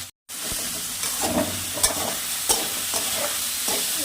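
Chopped onion, tomato, turmeric and salt masala fries in a pan while a spatula stirs it, giving a continuous sizzle punctuated by repeated scraping strokes and a couple of sharp metallic taps close by.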